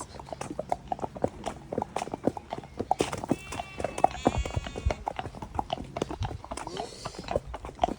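Horses clop steadily along a road with rapid overlapping hoofbeats, while one horse standing alone whinnies loudly in the middle and again briefly near the end.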